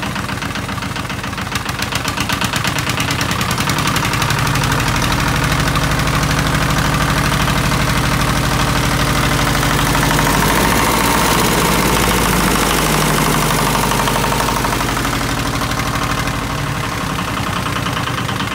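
A two-injector diesel engine idles after its injectors were bled, running with a loud, close, rapid knocking chug. The rhythm stays even throughout, with a slight rise in low rumble midway.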